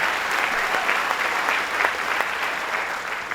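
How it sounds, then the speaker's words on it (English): At a governor's announcement event for a solar factory complex, the crowd applauds an official, giving a steady, even round of clapping that holds at a moderate level throughout. "Give him a round of applause"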